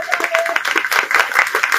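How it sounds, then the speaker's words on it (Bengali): An audience at a Vedic debate competition claps in a dense, fairly loud burst of applause that lasts throughout, with a voice faintly underneath. "ভালো লাগলে তো জোরসে করতালি দেওয়ার কথা"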